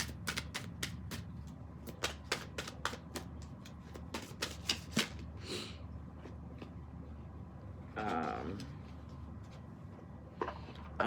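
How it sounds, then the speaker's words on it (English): Tarot cards shuffled by hand, a rapid run of crisp riffling snaps followed by softer sliding and a brief flurry as cards are picked, close and alone. "So, I'm going to pick one card from my tarot deck."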